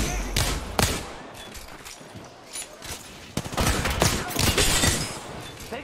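Bursts of automatic gunfire in a shooter video game, several rapid volleys with sharp thumps spread across the span, fairly close and loud, with brief voice sounds mixed in.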